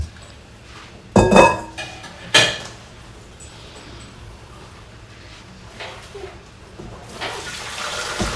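Boiled pasta and its cooking water tipped into a strainer, two short loud splashing pours near the start and then a softer trickle and drain with light clatter, with no voices.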